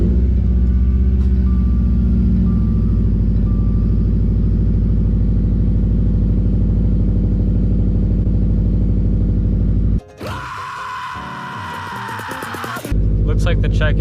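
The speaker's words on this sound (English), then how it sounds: "everything should work when I start the car" A 2016 Subaru STI engine runs with a steady low rumble, loud and close throughout. Near the end a brief burst of bright, harsh noise cuts in over the idle, with a short dip just before it.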